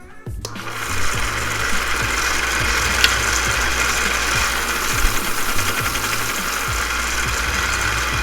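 A sharpening machine with a leather wheel and compound runs steadily while a fillet knife is honed, producing a loud, continuous motor whir with faint rhythmic ticking throughout.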